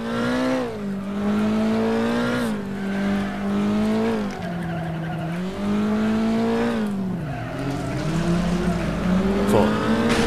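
Race car engine in the Flatout video game, driving a track mixing gravel and asphalt through a village, droning loudly and steadily with rising and falling pitch as it shifts gears, alongside tire skids.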